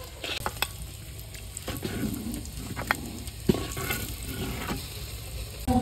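An egg fries in an oil-filled pan with turmeric and salt, a steady close sizzle and crackle that runs throughout, broken by scattered sharp ticks and spatters, with no voices.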